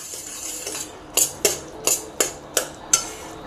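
A spoon scrapes and clinks against a pan while jaggery syrup melted with ghee is stirred, six sharp metallic taps in an uneven rhythm after a soft scraping start, close and clear with no voices.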